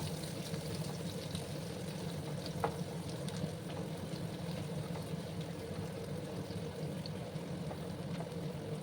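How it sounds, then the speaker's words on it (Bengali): Two chopped onions frying in a pan for cabbage dum aloo, a faint steady sizzle with a low rumbling hum beneath and a few small scattered clicks, no voices. "ভালো করে আমি পেঁয়াজগুলোকে ভেজে নেব।"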